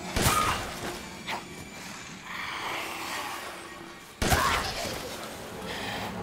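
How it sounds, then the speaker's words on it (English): Shotgun blasts in Resident Evil Village: two sharp, loud booms a few seconds apart, each followed by a crashing, debris-filled tail over game ambience. "Alright, shotgun."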